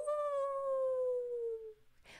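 A single drawn-out howl imitating a wolf, a clear tone gliding slowly downward for about a second and a half before it fades, followed by a brief soft noise.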